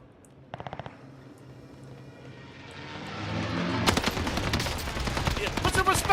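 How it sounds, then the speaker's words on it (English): Gunfire in the Call of Duty video game: a short quick burst of shots early on, then a rising engine-like roar and heavy rapid automatic fire toward the end, with some speech. "Oh no, they're shooting at me"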